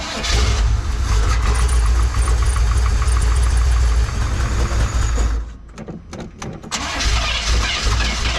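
A frozen 454 big block Chevy V8 in a square body truck cranks hard and catches into a loud running roar, then stutters and dies back near the end, close and without voices.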